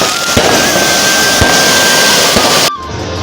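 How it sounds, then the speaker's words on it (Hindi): Midnight fireworks for Pakistan's Independence Day at a hotel, a loud, dense continuous crackle and roar with a few sharp bangs, ending abruptly into quieter background. "आज रात 12 बजे आतिशबाजी की गई"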